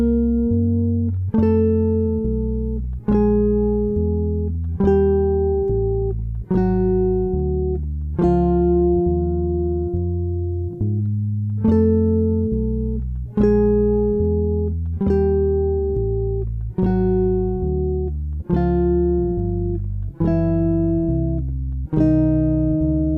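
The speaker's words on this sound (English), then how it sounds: "let's have a listen to that guide tone line" Jazz guitar plays a guide tone line over a cycle of dominant seventh chords, each chord plucked with a single melodic note on top, changing evenly about every one and a half seconds, clean and close with no talking.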